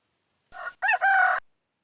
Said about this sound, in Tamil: கோழி சேவல் கூவும் சத்தம்.